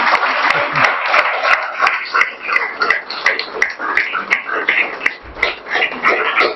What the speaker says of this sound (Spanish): yo lo que quiero es un aplauso para el trabajo editorial de la universidad